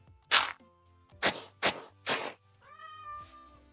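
A cat meows several times in short, bright calls, ending with a longer, drawn-out meow, close and fairly loud against a quiet background.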